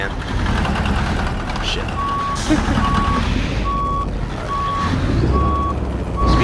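A truck's reverse warning beeper in American Truck Simulator, driving a Kenworth T680 heavy hauler: evenly spaced, loud, steady beeps over a rumbling diesel idle, with one short spoken exclamation from a man.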